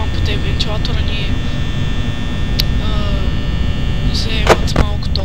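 Steady electric fan hum running through the office in Five Nights at Freddy's, a constant loud drone with bursts of game sounds and a voice talking over it.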